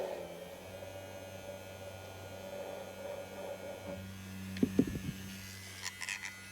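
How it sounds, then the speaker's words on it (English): An electric makeup brush cleaner spins soaked brushes dry with a steady motor hum, joined near the end by a few brief rattling clicks; no one talks. "I'm just going to let it spin dry a little bit."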